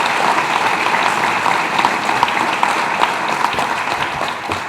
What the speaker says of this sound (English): Let's give the Film Hub a round of applause and all those who worked to make it a reality.